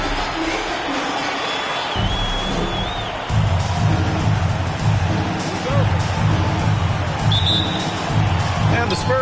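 A basketball arena crowd before a Spurs game gives a continuous roar and babble that swells partway through, with a commentator talking over it.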